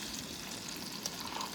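Onions frying in bacon fat in a pan alongside potatoes, a soft, faint, continuous sizzle with light crackle, brief and without talk.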